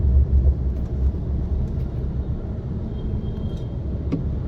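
A Maruti Suzuki Alto 800 with a troubled gearbox drives slowly in first gear, producing a steady low engine rumble and road drone heard from close by, with no talking.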